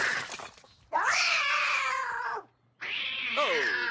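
A cartoon cat lets out two long, loud yowling meows, separated by a short pause, after a brief burst of noisy vocal sound at the start.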